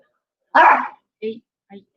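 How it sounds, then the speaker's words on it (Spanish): Small pet dogs bark at home: one loud yap, then two shorter, fainter barks in quick succession, close by. "Una disculpa por mis perritos que se alborotan a esta hora."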